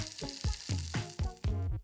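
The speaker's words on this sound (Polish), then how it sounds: "Ostrożnie rozłóż jajka na formie i smaż przez kilka minut." Eggs sizzle and crackle in a hot frying pan, with repeated bursts of frying noise coming close together. The sound is close and moderately loud, and no one talks.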